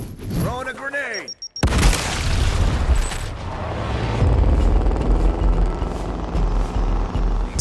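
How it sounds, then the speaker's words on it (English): A grenade explosion in the turn-based tactics game XCOM: Chimera Squad: a brief voice, then a sudden loud boom that trails into a long, heavy rumble. "Throwing a grenade!"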